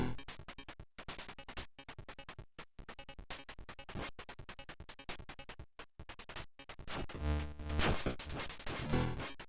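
Dense, harsh electronic music from the Lucasfilm game Ballblazer while the opponent has the ball, fast buzzing bursts in a driving rhythm, growing louder and more tonal toward the end.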